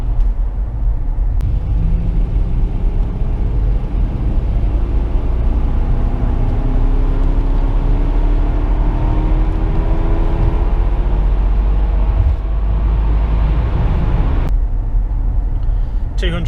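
A Lexus LS400 engine climbs smoothly through the revs, its steady rumbling whir rising in pitch inside the car, with a voice talking over it throughout.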